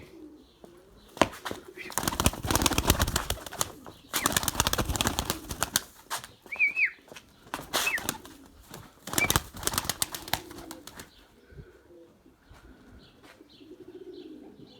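Pigeons fly overhead with bursts of loud wing flapping, one brief call in the middle, and faint soft cooing toward the end. Someone talks intermittently between the bursts.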